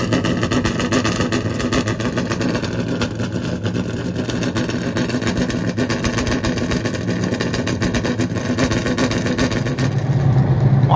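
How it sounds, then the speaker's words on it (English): Race car engines warm up at Caraway Speedway, a 4/10-mile asphalt track, on championship day for the CARS Tour; several engines drone loudly and steadily throughout, rising slightly in pitch near the end. "Engine warm-ups go on"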